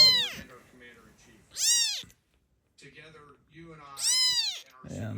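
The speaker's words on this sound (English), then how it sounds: "this little kitten" A little kitten meows loudly three times, high-pitched, well-spaced cries close by, with someone speaking quietly between them.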